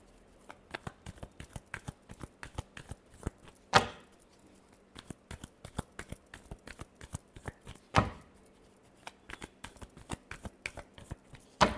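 Tarot cards being shuffled by hand, a quick run of soft close riffling flicks in an uneven rhythm, with two louder slaps where the deck is knocked together.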